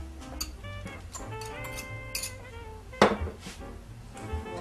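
Banana nut muffin batter with milk and mashed bananas being stirred in a bowl, giving close, irregular clinks and scrapes of utensil against dish, with one sharper knock partway through.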